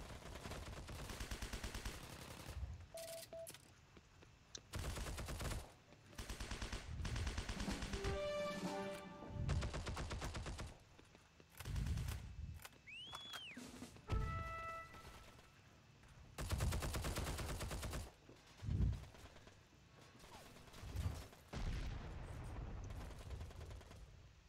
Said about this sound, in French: Il y a quelqu'un qui tire sur mon APC.